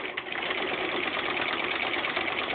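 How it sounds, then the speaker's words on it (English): Sewing machine running at steady speed with a regular straight stitch while quilting a T-shirt quilt, a continuous close whirring hum with no talk. "So now I just quilt using a regular stitch."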